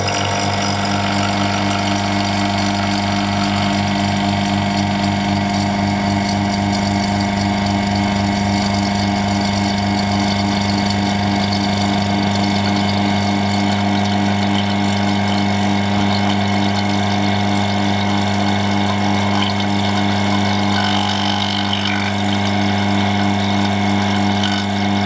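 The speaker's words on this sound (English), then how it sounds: "And let's turn the pump on." A vacuum pump runs steadily on a vacuum chamber holding an antistress ball, its loud continuous mechanical hum and droning engine-like tone sustained for the whole stretch with no speech.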